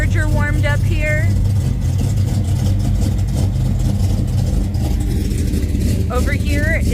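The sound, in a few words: Dodge Charger V8 engine idling warm-up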